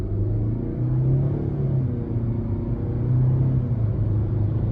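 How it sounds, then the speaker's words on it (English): A 2023 Nissan Altima SR with the 2.5-litre non-turbo engine accelerating under light throttle, heard as a steady low engine rumble and droning hum from inside the car, with no talk. "I'm gonna give it a little throttle here."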